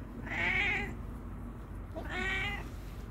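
A marbled cat gives two loud, drawn-out meows about a second apart on a quiet morning, close by and alone.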